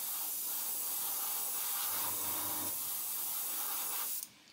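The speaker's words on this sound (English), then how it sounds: "watch what happens as I spray it" Airbrush spraying matt varnish onto an Airfix new-tool 1/72 Vulcan model, a steady close hiss of fine mist held for about four seconds before cutting off abruptly.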